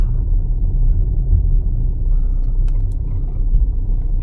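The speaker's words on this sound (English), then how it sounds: "So it does make a bit of a rubbing noise. So it's obviously rubbing on the tyre." A car creeping slowly onto a driveway with a snapped part rubbing against the tyre, heard as a steady low rumble of the moving vehicle with faint scraping close by.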